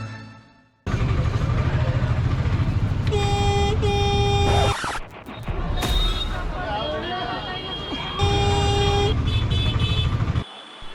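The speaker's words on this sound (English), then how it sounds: "the constant honking can be a serious case of culture shock" Busy street traffic in India with engines rumbling and constant car horns honking, some long blasts and short toots, loud and close throughout.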